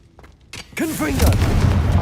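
A Confringo explosive spell goes off in a video game, a loud booming blast swelling into a sustained roaring rumble after a few faint clicks, with a voice speaking briefly over it.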